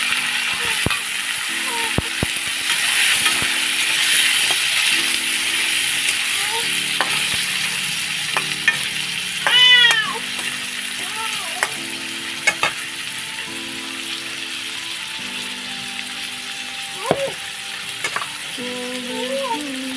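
Vegetables sizzle steadily in a hot pan in a home kitchen after fish has been fried, with intermittent scraping and rattling stirring strokes, close and continuous, with no talk.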